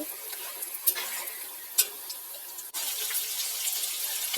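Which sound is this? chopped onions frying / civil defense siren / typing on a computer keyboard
chopped onions frying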